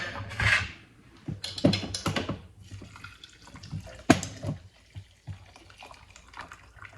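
Hot water poured into a cup over a ginger and turmeric morning drink, coming in a few short splashing bursts of several seconds each, close and fairly loud, with quiet pauses between them.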